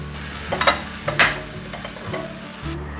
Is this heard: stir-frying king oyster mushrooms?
yes